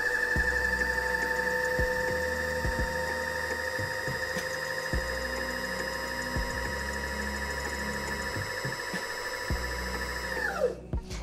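A beginner's sewing machine runs steadily for about ten seconds as a bobbin winds under foot-pedal control, a constant close motor whine with faint mechanical ticks, then spins down and stops at the end.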